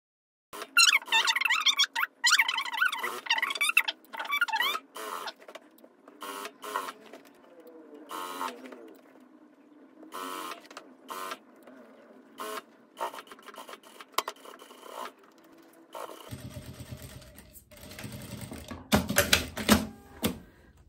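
A sewing machine topstitches a straight seam along a trouser waistband, giving bursts of rapid mechanical clatter broken by short pauses, then a louder, denser stretch of stitching near the end.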